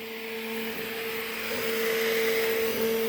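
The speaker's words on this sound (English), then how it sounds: "My dad got for us our first 3D printer." A FlashForge AD5X 3D printer runs with a steady whirring fan hum and sustained motor tones that swell slightly, close and continuous, with no voices.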